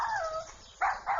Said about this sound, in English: I think it's called a dog